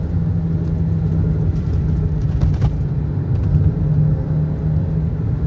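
Toyota Sienta with a CVT gearbox accelerating, its engine a steady, close, loud droning rumble with a constant low hum and no talking.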